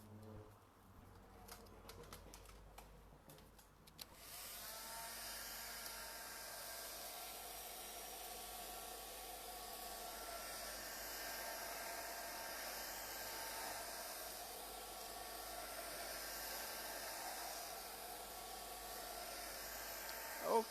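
Hair dryer running steadily on a triple switch plate freshly painted with a classic rose, a continuous whooshing hum after a few seconds of scattered handling noise, close and alone.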